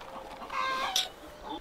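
Chickens on a village farm give a short run of clucks and squawks, fairly close, with no talk over them.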